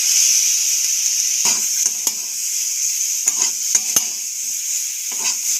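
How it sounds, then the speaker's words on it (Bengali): Vegetables with a small chopped tomato fry in a pan for a healthy breakfast khichuri, a steady hiss broken by sharp scrapes and clinks of a spatula stirring at uneven intervals, up close with no voices. "আবার একবার সবজিগুলো ভালোভাবে ভেজে নেব এখন এর মধ্যে দিয়ে দিচ্ছি ছোটো সাইজের একটা টমেটো কুচি করে"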